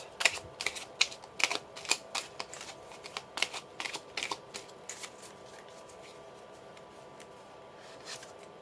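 Tarot cards are shuffled in a quick, close burst of crisp riffling slaps that thins out after about five seconds, leaving faint room quiet with no voice.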